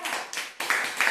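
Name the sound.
children clapping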